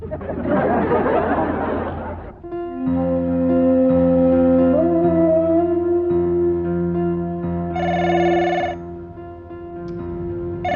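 A telephone rings with a sustained electronic tone, following a brief burst of noise at the start.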